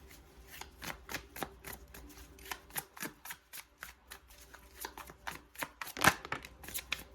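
Tarot cards being shuffled and drawn, a quick series of crisp riffling snaps and slaps, moderately close and fairly quiet, with a sharper burst near the end and no talking.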